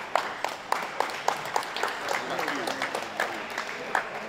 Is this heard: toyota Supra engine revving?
no